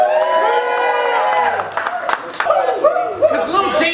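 A battle rap audience cheers and hollers for a rapper, a loud mass of shouts and whoops with chatter mixed in, a host's voice rising over the crowd.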